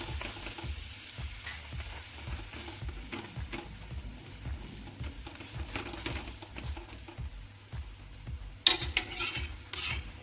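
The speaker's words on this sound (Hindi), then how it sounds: "इसी तरह से पलटते हुए पराठे को सेक लेंगे।" Pea-stuffed paratha sizzles in ghee on a hot griddle, a steady close frying hiss with soft scraping and spatula taps as it is flipped, and a few sharper metallic clinks near the end.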